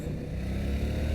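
Yamaha MT-07 motorcycle ridden gently on a road, its engine a steady low drone with rumbling harmonics throughout the short stretch, close and fairly loud with no talk.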